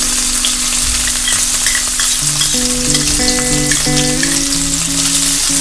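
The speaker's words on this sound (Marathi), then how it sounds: "आणि आता मी त्यात आलं लसूणची पेस्ट टाकणार आहे।" Ginger garlic paste fries in about three tablespoons of hot oil in a wok, sizzling and crackling steadily up close while a tonal hum plays underneath.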